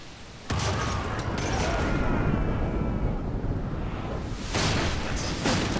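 Ship cannons fire in a naval battle in Pillars of Eternity 2, a sudden booming volley swelling into a long rumbling roar, followed by a second burst of blasts near the end.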